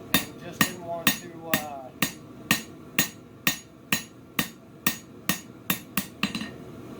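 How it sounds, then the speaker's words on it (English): A bowed knife blade being hammered straight: sharp, evenly spaced metallic strikes, about fourteen close blows at a steady rhythm, each ringing briefly before the next. "We're just going to straighten her out, hammer it up"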